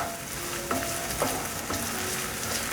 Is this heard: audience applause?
no